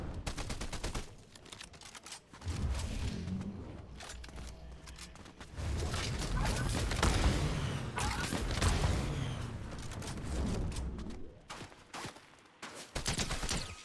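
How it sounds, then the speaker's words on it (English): Bursts of AI enemy gunfire in Fortnite, rapid cracking volleys that swell into dense stretches of shooting, with thuds and mechanical clatter mixed in and a voice talking underneath. "that's an AI shooting at me"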